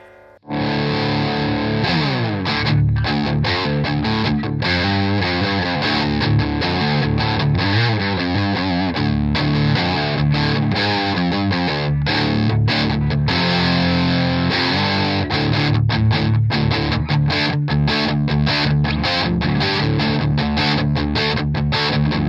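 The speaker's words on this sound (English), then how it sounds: "Let's back off the distortion to around here and see what that kind of sounds like." Heavily distorted electric guitar through a 1987 ProCo Rat 2 distortion pedal plays continuously, thick and saturated, with chords and riffs ringing out loud and steady, no voices.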